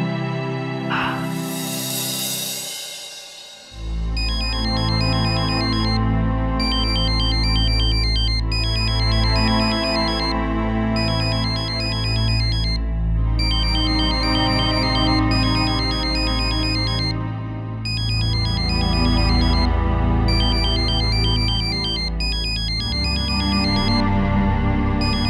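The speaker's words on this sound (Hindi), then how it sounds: "रिद्धिमा को फोन करता हूं, बात तो करनी होगी ना।" Melodic phone ringtone playing while a call is placed in a Hindi television drama, a loud repeating electronic tune with rhythmic note patterns that loops steadily after a short swoosh at the start.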